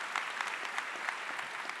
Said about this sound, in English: Can we get another round of applause for that?